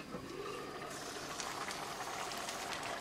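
Dal with garbanzos (chana dal with chole) simmers in a covered pot over medium gas, giving a steady, soft bubbling hiss that holds at an even low level throughout, with no voices.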